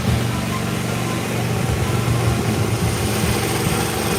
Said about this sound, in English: that generator's loud